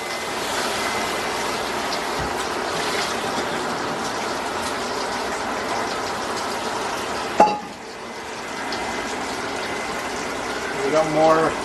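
Running water gushes steadily from a kitchen tap as liver is rinsed, a loud continuous wash with a brief clunk partway through and people talking over it.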